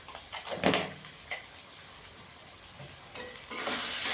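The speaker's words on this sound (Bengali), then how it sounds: "দিয়ে মশলাটাকে ভালো করে কষিয়ে নেব" Spice paste with coriander and chilli powder fries in a pan, a steady soft sizzle with stirring scrapes and clanks that grows louder toward the end.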